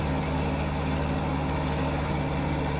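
Tractor engine idling in Farming Simulator 25, a steady low diesel drone with a constant hum and no change in pitch, running alone throughout.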